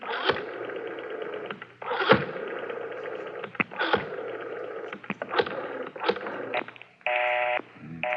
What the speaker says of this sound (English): Dial 9 to get outside, Garvey.